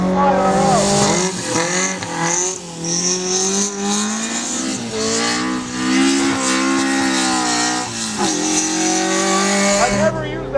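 Toyota AE86 drifting in the rain on a wet road, engine revving in rising and falling sweeps with tire noise, heard under loud singing or talk that runs throughout.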